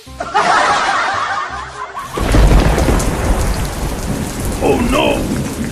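Heavy rain hisses steadily while thunder rumbles low and loud, a close stormy downpour with no talking.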